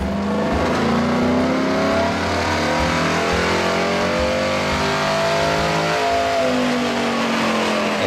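A truck with a freshly built engine in an engine build-off competition, floored at full throttle for a whole run, producing a loud, steady engine roar with rising revs and a few brief pulses, heard close with no talk.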